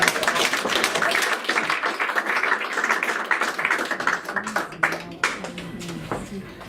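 An audience at a meeting claps for a speaker, with dense, steady applause that thins into scattered claps toward the end.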